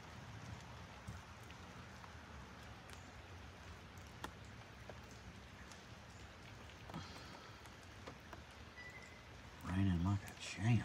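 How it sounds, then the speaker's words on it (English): Steady rain falls on a surface as a soft, constant hiss with scattered drops, and a brief low thud toward the end. "It's raining now."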